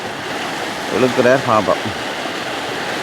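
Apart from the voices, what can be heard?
fast-flowing river water during storm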